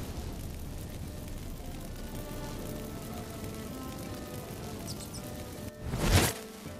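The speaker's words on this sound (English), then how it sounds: "Get ready for some magic fireworks." Magic fireworks set off by incense in The Witcher 3: Wild Hunt, a crackling, rain-like hiss building softly before a brief loud burst near the end.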